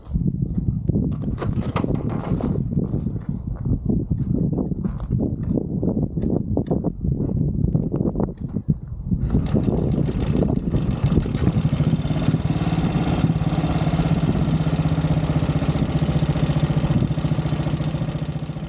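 A vintage motorcycle engine, checked for wet sumping after a test ride, turns over with uneven cranking bursts, then catches and settles into a steady, loud, close idle that continues to the end.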